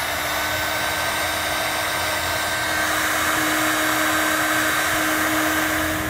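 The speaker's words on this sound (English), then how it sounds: "since these are heat shrinks, I'm going to take my heat source and seal up the ends of them here" A heat source, likely a heat gun, shrinks and seals heat-shrink butt connectors while wiring a Peterson trailer tail light kit, blowing as a steady, loud airflow hum with a faint tonal whine throughout, alone without talk.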